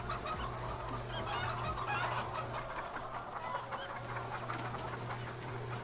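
Chickens cluck steadily and fairly close in a Farming Simulator 19 farmyard with LPG Schwarze Pumpe 1988 equipment, their calls layered over a constant low machine hum and ambient game noise.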